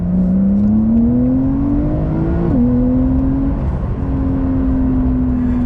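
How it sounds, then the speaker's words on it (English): A loud, steady Porsche 992 Carrera 4S engine drones and rises in pitch as it revs, briefly dipping at a gear change before pulling strongly again. "That's that Porsche sound."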